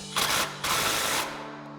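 A nut on a RAM 2500 front suspension is driven tight with a 21mm socket and swivel, heard as two short, loud, close whirring bursts in quick succession.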